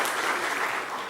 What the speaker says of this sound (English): clap for Eric